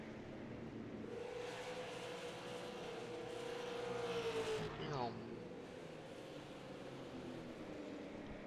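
Super late model race cars battling for position at Irwindale in a racing video game, engines droning steadily with one car's pitch rising, then a quick pass sweeping by, under faint background noise.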